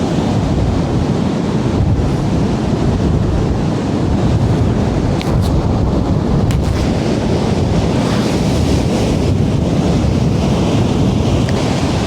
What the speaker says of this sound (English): where the incoming waves meet the outgoing ones, and there's a sort of a build-up of pressure